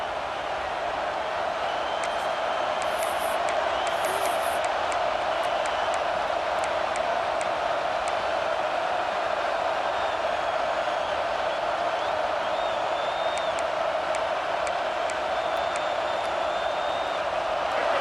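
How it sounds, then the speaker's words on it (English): A stadium crowd at a Wisconsin vs Oklahoma college football game roars without a break, a dense, steady wall of noise that holds for the whole stretch with no single voices standing out. "And with this place rocking, the crowd forces a false start."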